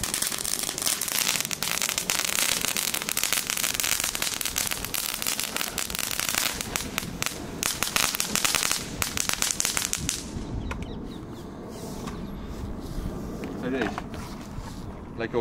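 A long, continuous run of cheap crackling firecracker pops over rushing ambient noise, dense for most of the stretch before thinning near the end.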